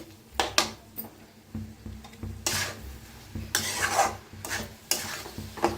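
Vegetable curry with lentils being stirred and mixed in a pan, giving irregular scraping and clinking strokes of a spoon against the metal over a soft low sizzle, close and moderately loud, with no voices.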